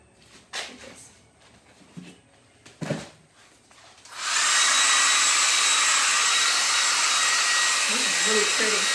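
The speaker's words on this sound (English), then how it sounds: "I'm going to blow dry this with a blow dryer." A blow dryer switches on about halfway through and runs loud and steady, drying paint on an abstract painting after a few soft handling sounds.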